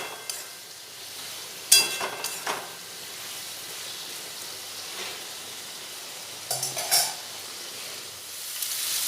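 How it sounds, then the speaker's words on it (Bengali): Shrimps fry in hot oil with a soft, steady sizzle, broken by a few sharp clinks of a utensil against the pan. "খুব ভালোভাবে চিংড়ি মাছগুলো ভেজে নেব।"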